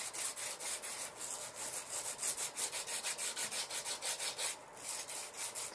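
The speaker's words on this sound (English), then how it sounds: "So I'm sanding it all around." Sandpaper rubbed steadily back and forth along the sharp edges and 45-degree corners of a cast concrete bonsai pot, a close, rhythmic, gritty scraping that repeats in quick even strokes with no talk.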